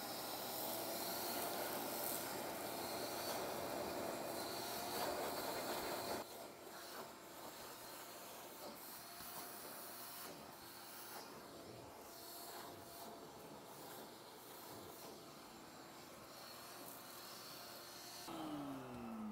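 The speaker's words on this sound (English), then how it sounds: "So using the shop vac, of course, that's gonna do a lot of the main dirty work." A shop vac running steadily while vacuuming a car interior, a loud constant rushing hiss with scraping and rubbing as the nozzle moves, dropping in pitch partway through.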